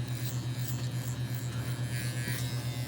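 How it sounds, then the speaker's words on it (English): An electric hair clipper buzzes steadily at close range while its blade corner blends hair against the grain, a loud pulsing motor hum with faint rasping as it meets the hair. "I'm using the corner of my clipper to blend it in."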